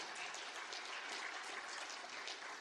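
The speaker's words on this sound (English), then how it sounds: "give them a round of applause, please" An audience at a graduate research funding forum claps in a dense, even patter that stays faint and distant for the whole stretch, with no talk over it.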